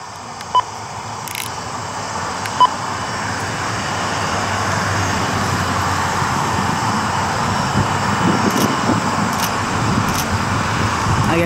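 Aircraft departing runway 23 at Toronto, a steady broadband engine roar that swells and holds through the takeoff roll, distant but growing louder, with a couple of faint clicks early on.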